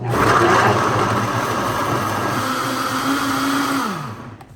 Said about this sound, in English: So we're going to throw this all in there and blend it up